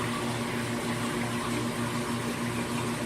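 Water pours steadily into the sump of a 200-gallon saltwater reef aquarium in a garage fish room, a constant rushing wash layered with a low pump hum, close and continuous.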